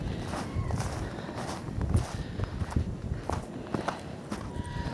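A horse walking out to its lot after a snowstorm, with sheep being moved into a small paddock nearby; steady irregular hoof and footstep thuds over outdoor rustle, moderately close, with no talking.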